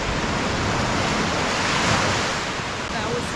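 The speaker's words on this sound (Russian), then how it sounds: "Еще хорошая идет волна." Ocean waves break on a Turkish shore in a continuous, loud wash of surf, with a wind rush on the microphone and a slight swell near the middle.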